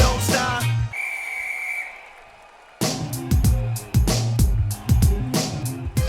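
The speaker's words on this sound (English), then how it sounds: "on the sound of the whistle, let the games begin" A single sustained referee-style whistle blast signals the start of the games, standing alone in a brief gap between loud, punchy hip hop music.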